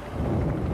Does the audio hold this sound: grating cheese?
no